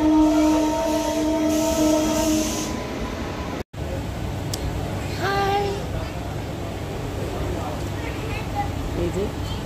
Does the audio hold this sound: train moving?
yes